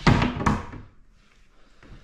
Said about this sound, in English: then in the big drawer down here, pots and pans, and plenty of them